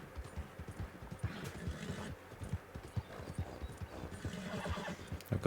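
Horse in Red Dead Redemption 2 neighing over steady clip-clop hoofbeats, the whinny rising in two bursts while rhythmic hooves pound close and loud throughout.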